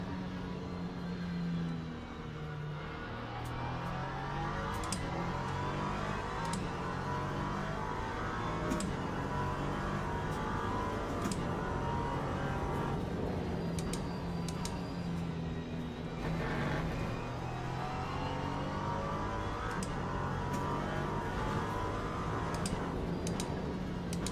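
An LMP race car engine in the Le Mans Ultimate video game gives a steady drone with harmonic pitch shifts as it revs up and down, continuous and loud, with faint ticking clicks layered on top.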